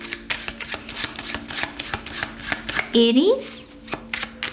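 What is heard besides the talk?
tarot cards being shuffled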